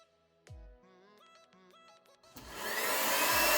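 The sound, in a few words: blow dryer running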